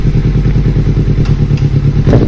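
A motorcycle engine idles loudly and close with a steady pulsing thrum while it spins the wheel during a brake check after a brake fluid change, with a brief clattering rise near the end and no talk.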